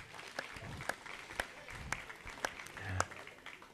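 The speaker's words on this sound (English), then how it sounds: "I think we ought to give them all a nice round of applause for the kind hospitality" An audience at an Angus cattle sale in White Sulphur Springs, Montana, gives a light round of applause, with sparse, scattered claps spread across several seconds and a faint voice in the room.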